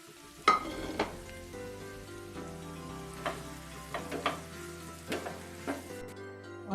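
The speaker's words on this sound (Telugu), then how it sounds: "ఫ్రై చేసుకోవాలి." Mashed boiled potato filling for aloo kachori fries in a pan, giving a soft, steady sizzle broken by occasional spatula scrapes and taps, close and fairly quiet, with no one talking.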